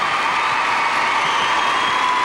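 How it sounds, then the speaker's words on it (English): A figure-skating arena crowd at the 1999 Four Continents Championships gives Elvis Stojko a standing ovation: steady, loud, broad applause and cheering that fills the hall without letting up. "Standing ovation for Elvis Stoico."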